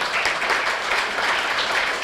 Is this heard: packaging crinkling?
no